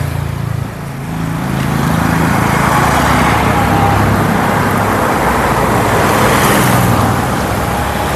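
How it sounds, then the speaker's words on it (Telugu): A 2014 Honda City pulls away and drives off, its steady engine drone and tyre roar rising after a short quieter start and holding loud and close, with no talk. "కార్ అయితే చూడొచ్చు బయలుదేరుతుంది వెళ్ళిపోతుంది"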